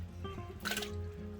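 Cored, chopped whole pineapple is dumped into a pot of water for Mexican Christmas punch, giving a short, soft splash and slosh of liquid amid quiet kitchen background.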